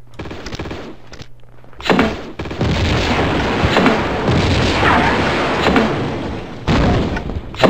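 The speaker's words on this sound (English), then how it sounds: "Boom goes the dynamite." A loud, booming dynamite blast in Tomb Raider 2 erupts after a quieter stretch, followed by a sustained rumbling roar and a second heavy thump near the end.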